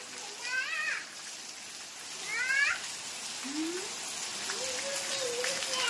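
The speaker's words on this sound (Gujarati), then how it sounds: "એવો વરસાદ જોરદાર પડી રહ્યો છે" Steady rain hisses throughout while a cat meows several times, rising and wavering calls close by.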